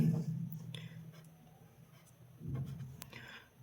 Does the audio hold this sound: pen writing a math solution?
yes